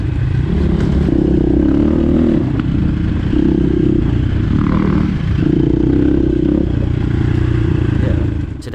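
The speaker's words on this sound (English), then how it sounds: "This is a 350 Husky." A Husqvarna 350 dirt bike engine runs steadily and loudly, with a constant near drone and repeated throttle surges along a trail in Costa Rica.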